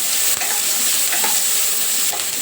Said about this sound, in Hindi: उसमें प्याज भून लेते हैं।